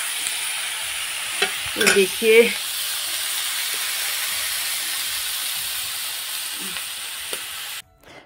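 Steady broadband sizzle of hot oil tempering in a pan for a broad bean and cabbage curry, with a few clinks of a utensil and a brief spoken word.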